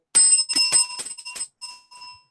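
A small hand bell rings close by in a quick burst of about six bright metallic dings, followed by a few softer, thinner rings, with no talking over it.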